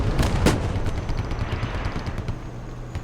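.50 cal machine gun fire in the video game Squad thumps in a short, heavy burst near the start, then trails off into rumbling distant battlefield noise.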